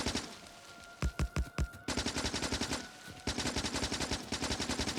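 Rapid automatic gunfire from shooting enemies in the video game Factorio, a brief burst of heavy shots followed by long, steady machine-gun strings, fairly quiet and with no talking.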